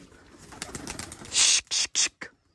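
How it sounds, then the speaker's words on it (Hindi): Pigeons are tossed into the air, their wings clapping in a few loud flurries of flapping close by after a stretch of murmured talk. "तो भाई सब तीन कबूतर उड़ेंगे"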